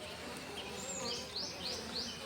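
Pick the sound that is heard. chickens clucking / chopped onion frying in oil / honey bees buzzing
honey bees buzzing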